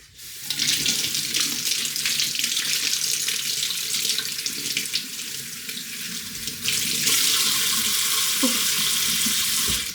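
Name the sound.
rinsing cut food under a running kitchen tap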